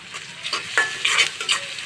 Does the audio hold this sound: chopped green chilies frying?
yes